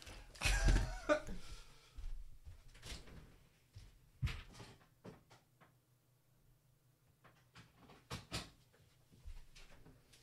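A door at home being knocked and opened, several sharp knocks and thuds with a few fainter clicks and rattles, quiet room between sounds.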